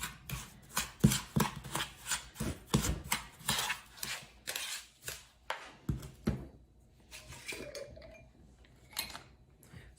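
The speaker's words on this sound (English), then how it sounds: "mix it all together." Sugar scrub with lavender and vanilla essential oils being stirred, a spoon scraping and clinking against the bowl in steady rhythmic strokes, close and moderately loud, then slowing to sparser scrapes near the end.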